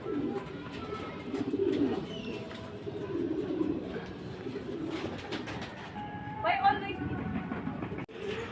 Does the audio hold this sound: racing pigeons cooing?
yes